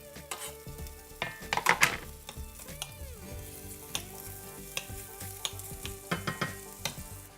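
Bacon lardons frying in a pan, a steady sizzle punctuated by scattered pops and clicks of a utensil stirring the meat, close and clear with no talking.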